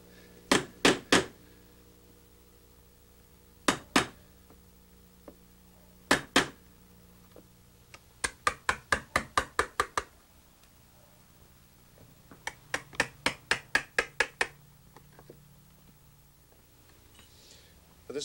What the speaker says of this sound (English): Now using our 1-inch chisel again, we excavate the wood.